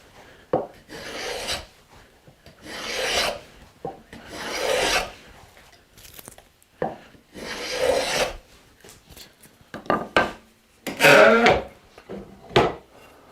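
A moulding plane blade is sharpened with a run of rhythmic, gritty rubbing strokes, each a short rasping sweep with pauses between, heard up close and fairly loud.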